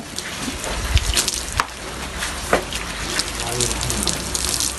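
Water pours and splashes steadily into a container, close and continuous, with occasional louder gushes and drips.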